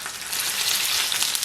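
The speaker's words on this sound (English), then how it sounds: "Okay, let this fry." Aloo tikki potato patties fry in oil with a steady, close, dense sizzle and crackle that holds evenly throughout, with no talking.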